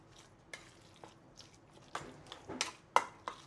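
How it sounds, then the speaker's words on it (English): Ground meat filling for five-spice meat rolls is mixed with Shaoxing wine in a bowl. Soft, wet squelches and short scraping strokes come in an irregular rhythm, close and fairly quiet, with no talking. "Let's mix all this up first."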